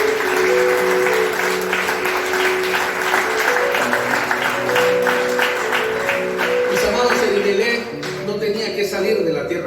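A church congregation applauds in a steady, dense burst of clapping for several seconds over sustained music, easing slightly near the end.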